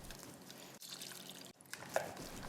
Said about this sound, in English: Add the hot milk a bit at a time,